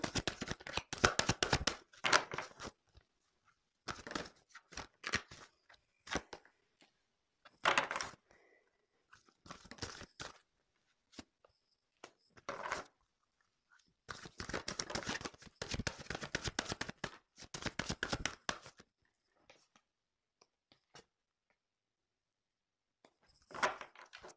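Tarot cards are shuffled and drawn by hand in short papery bursts of riffling and slapping, close and fairly quiet, separated by near-silent pauses.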